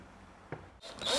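A power drill drives a screw into wood in a workshop, a faint tap and then a rising close whir that builds in the final half second.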